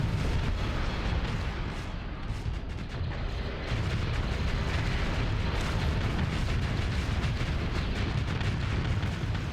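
Starsector space combat with explosions and weapons fire, a dense, continuous rumble of booms and rapid gunfire bursts layered together at steady loudness throughout.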